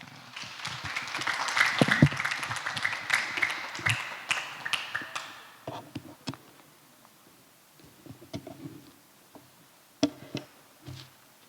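Applause from a church gathering after a sermon on the Eucharist, rising into a busy patter of many hands, then dwindling into sparse, scattered claps and taps over several seconds.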